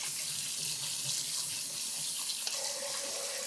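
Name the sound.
tap water rinsing soaked beans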